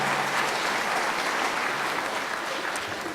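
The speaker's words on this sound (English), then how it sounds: "Round of applause for them." An audience at a school spring concert gives a round of applause, with steady, dense clapping that fills the short stretch and tapers slightly toward the end.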